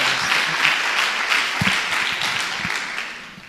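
Congregation applauding during a church worship service, a dense steady wash of many hands clapping at once, loud and sustained, tapering slightly toward the end.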